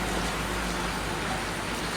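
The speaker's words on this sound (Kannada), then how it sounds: "ಮಳೆ ಬೀಳ್ತಾ ಇದೆ ಹನಿ" Light rain falls at the Aneguddeya Harihara temple in Kumbashi, Kundapur, with drops pattering onto water. A steady, even hiss of rain continues throughout, with a small tap at the end.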